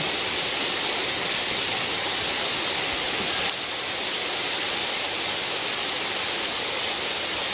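Creek water on the Ozark Highlands Trail rushes steadily in a broad, continuous close-up roar, loud and unbroken with no voices.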